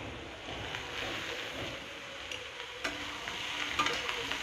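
A spoon stirs small chopped pieces of bottle gourd (lauki) in a hot pan with a little oil, giving a soft, close sizzle with scraping and shuffling.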